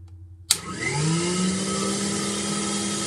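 A vintage Rexair Rainbow Model B vacuum cleaner switches on with a sharp click and spools up into a steady, loud motor whine with a low hum and airy rush, running alone.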